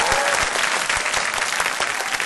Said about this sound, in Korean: 두 분에게는 우리 환호 같은 박수 드리겠습니다